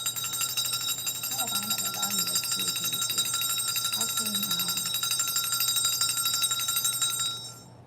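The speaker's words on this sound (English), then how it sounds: "I'm going to ring the bell, y'all." A bell is rung once and holds a bright, sustained, shimmering ring for several seconds before fading out. A person talks over the ringing partway through.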